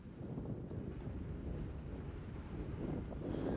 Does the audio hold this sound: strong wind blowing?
yes